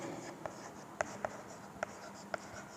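Writing on a board to draw up a score table, a handful of sharp isolated taps and strokes spaced irregularly over faint background noise, with no speech.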